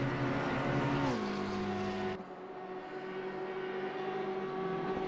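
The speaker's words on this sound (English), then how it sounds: "now we can listen to race cars too" Simulated race car engines from a sim racing league finale at Watkins Glen, a steady tonal engine drone that drops in pitch as a car shifts, then continues as a fainter sustained whine.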